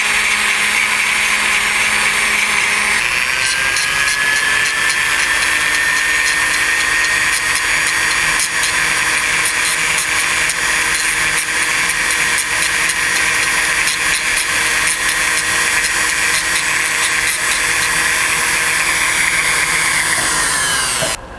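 A Foredom rotary power tool runs continuously at high speed, texturing the feathers of a carved wooden mallard drake decoy, a steady close whine with a pitch shift after a few seconds and no talking.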